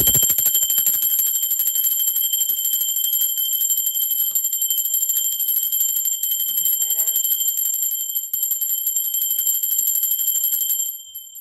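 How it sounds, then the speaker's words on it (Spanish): A bell sounding with a bright sustained metallic ring, a rapid continuous trill held steadily and loud for about eleven seconds before cutting off abruptly near the end, heard alone. "va campana, ser divino."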